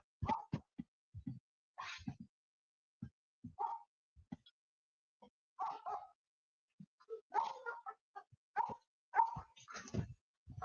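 A puppy lets out a string of short whimpers and yips in scattered bursts, quiet and close, with gaps of silence between the cries.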